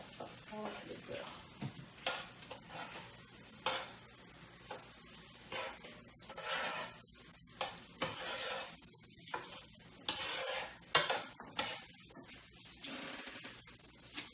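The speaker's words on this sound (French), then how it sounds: "Puis là, on va fondre le beurre" Butter sizzles as it melts in a pan, with a soft frying hiss and intermittent scraping and stirring sounds, fairly close and moderately quiet, over a faint low background.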